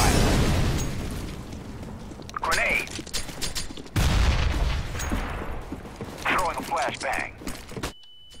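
Incendiary grenade fire in CS:GO, a dense crackling burst of flames and popping near the listener, with a sharp onset partway through and a steady roar that cuts off at the end, under intermittent voices.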